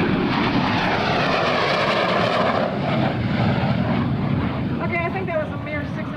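A jet fighter roars past at about 600 miles an hour during an airshow at NAS Oceana, a loud sustained engine rush that shifts in pitch as it passes, with voices partly buried underneath.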